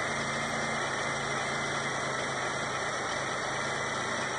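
A car engine idles steadily during a battery load test, a constant close-up hum with a faint electrical whine and no talking.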